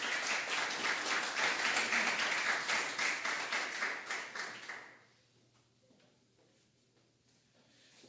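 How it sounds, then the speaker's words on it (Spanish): A conference audience gives loud, dense applause to welcome a speaker, steady for about five seconds before dying away to quiet room noise with a few scattered claps. "Recibamos con un fuerte aplauso a Alberto Mansuetti."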